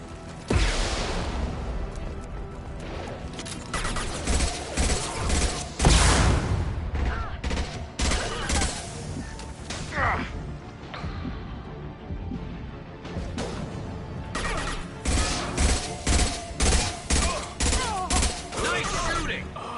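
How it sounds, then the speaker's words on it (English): Rifle fire in the video game Mass Effect Legendary Edition on PlayStation 5, with repeated loud bursts of shots over about twenty seconds, mixed with game effects, clanks and booms, and brief voices. "I love this rifle."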